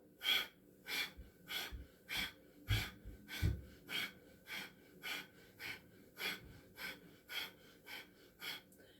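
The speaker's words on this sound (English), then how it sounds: "deep breath in, filling up the diaphragm, and then exhale" Deep yoga breathing, each inhale and exhale heard up close as a steady, regular rhythm of soft airy breaths repeating through a quiet room.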